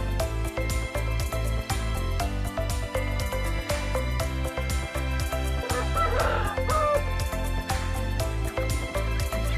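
Chickens and small chicks in a coop, with clucking and a rooster crowing over a dense, steady background.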